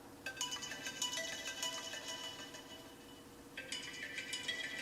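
An iPhone 7 ringtone plays after the phone was soaked in Sprite, a repeating bright electronic melody sounding faint and somewhat muffled against a quiet background.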